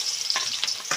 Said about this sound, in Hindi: प्याज के फोरन डालत हूँ।